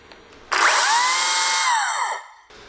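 A Makita battery-powered chainsaw whirs up sharply when the trigger is pressed, holding a steady high motor whine for about one and a half seconds before winding down, loud and close with no talk.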